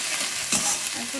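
Ginger spattering in hot oil, a brief dense close sizzle with a single stirring scrape.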